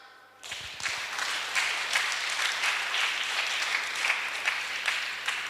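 A church congregation applauds. The clapping starts abruptly and holds as a dense, steady round of many hands.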